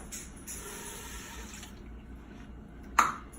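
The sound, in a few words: pouring a cup of water into an Instant Pot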